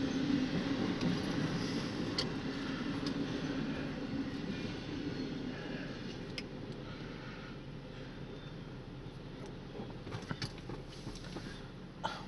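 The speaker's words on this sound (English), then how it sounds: "the train's still going by." A train rolls steadily past, a continuous low rumble and rattle of rail cars that slowly eases in loudness, heard from nearby outdoors with a few faint clicks on top.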